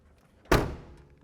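Passenger door of a 1965 Ford Mustang Fastback shutting with a single solid thunk, close and fairly loud, then a short fading ring with no talk.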